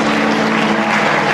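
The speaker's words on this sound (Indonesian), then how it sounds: "Yang merasakan hadirat Tuhan kasih tepuk tangan yang meriah" A church congregation applauds loudly and continuously, a thick wash of clapping with a low steady hum underneath it and no voices on top.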